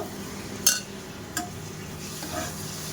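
Raisins and sugar syrup being stirred into a hot pitha filling in a pan, a soft sizzle with a few spoon scrapes and clinks against the metal, no talk.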